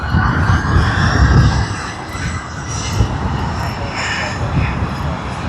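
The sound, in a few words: Fiji Airways Airbus A350-900 jet aircraft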